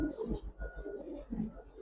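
Giribaz colouring and racer pigeons cooing softly in a short, low, throaty series of coos, close by and under faint background noise.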